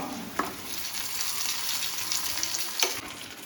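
Hot tempering is poured over cooked tapioca for Kerala-style pal kappa, setting off a bright steady sizzle with two sharp crackling bursts, near and loud.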